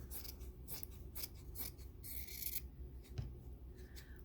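Sharp scissors snip through fabric trimming seam allowances on a sewn teddy bear, a series of crisp close cuts in an uneven rhythm, quiet and alone.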